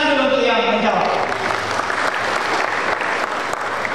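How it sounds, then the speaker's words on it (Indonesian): Audience applause at a basic moral-ethics and national-defence training session at Universitas Quality Berastagi, a steady dense roar of clapping filling the room, with a voice heard briefly at the start. "tepuk tangan dulu untuk yang menjawab"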